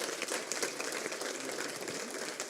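Church congregation applauding at a pastor's urging during a sermon, a steady dense wash of many hands clapping at moderate loudness with no voices over it.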